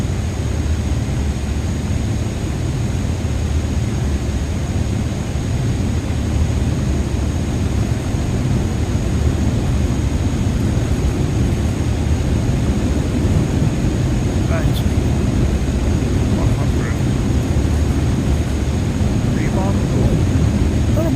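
A jet airliner in Microsoft Flight Simulator 2024 rolls down runway 25 for takeoff with its brakes released, its engines a loud, continuous, unbroken roar that holds steady throughout.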